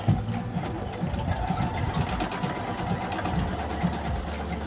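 A Toyo Singer sewing machine stitches a flower design, running in a fast, even mechanical chatter of needle strokes at close range, with a faint low motor hum beneath.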